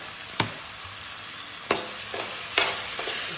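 Tomato and tomato sauce are stirred in a frying pan over a constant hiss of sizzling, with three or four distinct sharp spoon knocks against the pan spaced a second or so apart.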